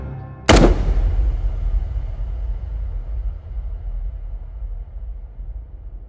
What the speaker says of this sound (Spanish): Hubo disparos